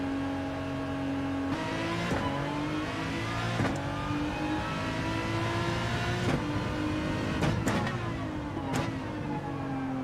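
A Vantage race car in Gran Turismo 7 revs its engine, a steady loud droning note with rising and falling pitch and a few sharp blips, heard alone without talk.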